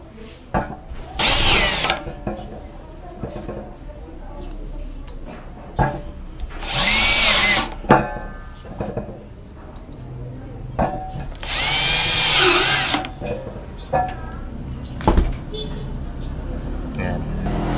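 Power drill driving black sharp-point screws with scraper tips into thick metal studs: three loud, sustained whirring bursts of a few seconds each, separated by clicks and handling noise, with someone talking between them.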